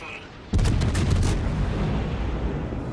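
A World of Warships Hindenburg cruiser's gun salvo strikes home in one sudden heavy boom, followed by a rapid rumble of impacts and a long, low decaying roar.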